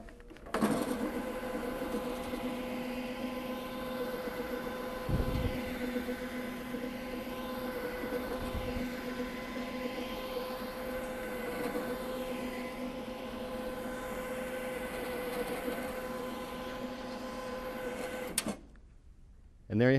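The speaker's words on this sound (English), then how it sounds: "Turn the machine on." A Cimex encapsulation carpet cleaning machine runs with a steady, loud mechanical hum and whirring drone for about eighteen seconds, with a couple of low thumps early on, before cutting off abruptly.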